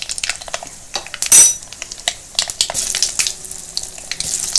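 Urad dal fries in hot oil in a pan while baby potatoes are being prepared, a close, busy crackle of bubbling sizzle punctuated by sharp clinks of a utensil against the pan.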